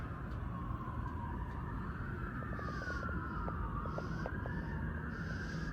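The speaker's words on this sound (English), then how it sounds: "Sorry about if you can hear sirens in the background" Emergency vehicle siren wailing faintly in the distance, rising and falling slowly over a steady low background rumble.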